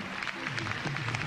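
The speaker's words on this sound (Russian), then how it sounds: "после каждого имени будут звучать аплодисменты зала" A concert hall audience at the 1998 Ovatsiya music awards applauding after a nominee is named, a steady dense patter of many hands, with a voice audible underneath.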